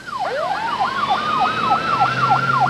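Two overlapping emergency sirens, an ambulance and a fire engine, wail loudly and continuously in steady rising-and-falling sweeps, one climbing in pitch as it draws near, with a low rumble underneath.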